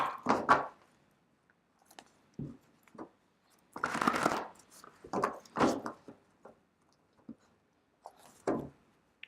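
Tarot cards being shuffled by hand in a quiet room, heard as short, soft bursts of papery riffling and tapping, separated by brief pauses.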